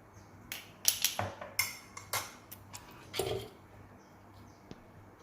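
Vegan soy meat floss being stirred in a pan, with a run of sharp utensil scrapes and clinks against the metal, clustered in the first half and then trailing off into a few isolated taps, close and fairly quiet.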